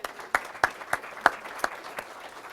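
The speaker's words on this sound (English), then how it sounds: "Let's give Michelle a round of applause." A handful of sharp, separate claps ring out at a school board recognition meeting, sparse and uneven, about eight distinct hand claps from a small audience.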